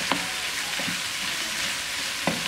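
A pan of vegetables and kofta meat sizzles with a steady oily hiss, and a few light scrapes of stirring come through near the start and end.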